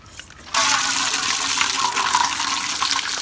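After a brief quiet moment, a tap suddenly gushes on full, a loud steady rush of running water that continues without pause.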